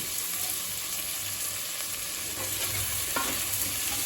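Potato rice masala with peas, made with frozen peas, sizzles and hisses steadily in a pan as it is stirred, a close, continuous frying sound with faint scraping and no talking.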